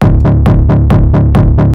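Heavy side-chained electronic bass line in a Melbourne bounce track, pumping in a steady rhythm, with regular kick drum hits buried beneath the dense low end.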